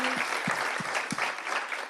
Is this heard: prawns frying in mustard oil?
no